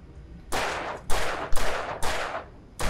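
Gunshots from a handgun in Alan Wake Remastered, five sharp, loud reports fired at a steady pace about half a second apart, each leaving a short decaying tail.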